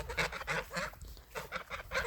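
Domestic geese in a farmyard honk repeatedly in rapid, overlapping bursts, fairly close and loud, with no talking.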